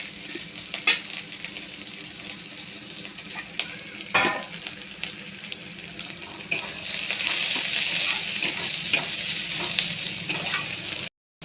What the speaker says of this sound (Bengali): পেঁয়াজ রসুন লাল লাল করে ভাজা হয়ে গেছে।